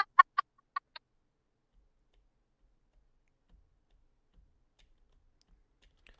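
Chickens cluck in the Pixelmon Reforged mod of Minecraft: five quick, sharp clucks within the first second, then near silence with only faint low thumps.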